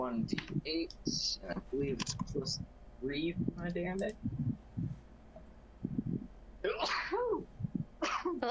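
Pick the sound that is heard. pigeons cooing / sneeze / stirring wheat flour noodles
sneeze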